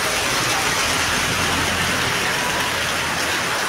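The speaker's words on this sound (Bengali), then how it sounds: "প্রচণ্ড মুষলধারে এই মুহূর্তে বৃষ্টি হচ্ছে" Heavy torrential rain pours down on a flooded street in Zindabazar, Sylhet, a dense, steady roar of downpour that stays loud and unbroken throughout, with no voices.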